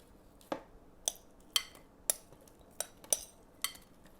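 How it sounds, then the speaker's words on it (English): Vegetables are laid piece by piece onto a metal sheet pan, giving about eight sharp, separate clinks and taps spaced roughly half a second apart against a quiet background. "I'm just going to lay the veggies out on the pan"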